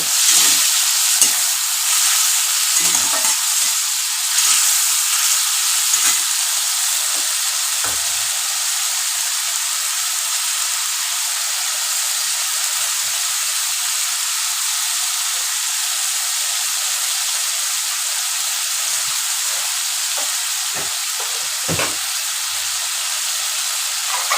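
Prawns frying and being stirred in a pan, a loud continuous bright sizzle with scattered spatula scrapes and taps throughout, close up and without talking.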